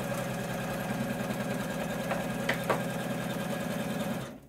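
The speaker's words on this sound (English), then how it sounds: "it's going to stitch out our placement stitch." A home embroidery machine sews a placement stitch for an in-the-hoop zipper pouch, giving a steady, close mechanical whirr with a fast regular needle rhythm and a few faint clicks before it winds down.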